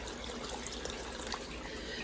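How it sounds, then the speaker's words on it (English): Water pouring into a pot of Louisiana-style red beans, a steady continuous splashing rush that stays even throughout, close and without speech. "I'm going to add in some water"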